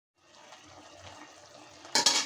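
Fish pieces go into a pot of oil-free village-style curry with beans that has already been cooked down. A soft stirring rumble runs throughout, then a sudden loud hiss and splash bursts near the end.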